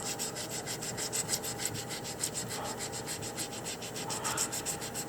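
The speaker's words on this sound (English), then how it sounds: "So now I'm going to sand that little area right there." Sanding a small spot on an echinoid fossil multi-block: a quiet, steady, rapid scratchy rubbing that continues without pause and without talk.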